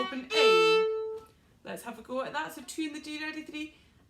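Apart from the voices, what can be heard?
None of the usual background noises is heard.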